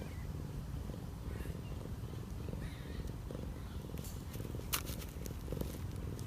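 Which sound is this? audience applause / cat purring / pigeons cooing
cat purring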